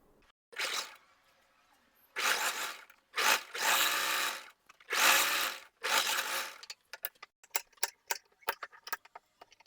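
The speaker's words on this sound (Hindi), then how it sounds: "यहाँ पर बिल्कुल किनारे किनारे पर सिलाई लगाएंगे" A sewing machine runs in several short stitching bursts along the edges of a pocket for plazo pants, with brief pauses between runs and then a string of quick light ticks and clicks close by.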